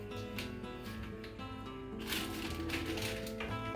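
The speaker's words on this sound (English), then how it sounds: "I'm gonna put this in like a plastic bag" A plastic bag crinkles and rustles in a home kitchen as leftover meat is packed into it, with a run of short crackling handling sounds over steady background music.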